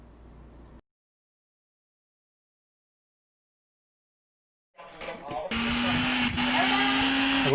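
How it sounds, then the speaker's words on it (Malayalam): An electric mixer grinder running after a repair to a cut wire: after a stretch of silence it starts up with a rising motor whir and settles into a loud, steady high-pitched whine nearby. "നമ്മുടെ മിക്സി വർക്കിംഗ് ആയിട്ടുണ്ട്."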